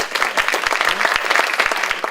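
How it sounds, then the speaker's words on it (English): An audience applauds the fellows at the 2017 Mandela Washington Fellows forum, a sustained burst of many hands clapping in a dense, steady patter that fills the room. "I'd like to give the fellows a round of applause"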